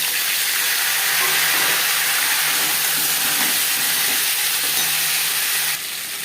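Taro pieces fry in hot oil with five-spice seeds and bay leaf, a steady loud close sizzle and hiss that runs continuously without pause and dips slightly at the end; no one speaks.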